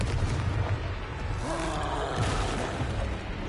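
Confringo, a fire-blast explosion spell cast during a battle in a Hogwarts wizarding video game, booms amid soft rumbling combat sounds and a brief whooshing sweep, all fairly faint and distant.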